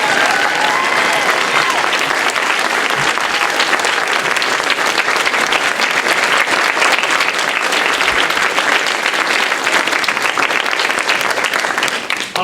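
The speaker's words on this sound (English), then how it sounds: "Would everyone please stand and let's give Jay a round of applause" Sustained applause from a theater audience at a volunteer gala honoring a longtime supporter, loud and dense throughout with steady clapping and crowd noise, no voices standing out.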